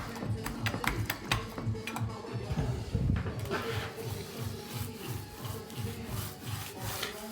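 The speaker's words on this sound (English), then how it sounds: "if I roller this now, because I've rubbed it down previously" Paint roller rolling a coat of paint over a previously sanded wall, a steady rhythmic rubbing swish repeating with each pass, close and moderately loud with no talking.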